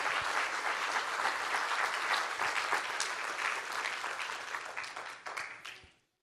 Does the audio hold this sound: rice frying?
no